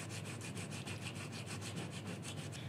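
Wet sanding a 3D-printed T-800 Endoskeleton arm part with sandpaper by hand, a faint, steady back-and-forth scratchy rubbing in quick regular strokes, close up with no talking.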